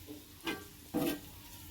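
A spoon stirs a shellfish curry with kokum pieces in a pan, making two quick scraping strokes over a faint sizzle, close and quiet.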